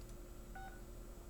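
A single telephone keypad tone sounds as a number is pressed in an automated phone chat-line menu, a short clean double-pitched beep over faint room hiss.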